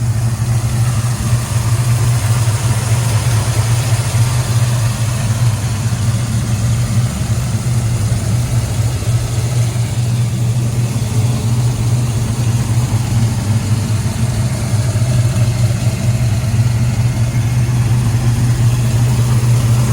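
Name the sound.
1970 Dodge Charger engine running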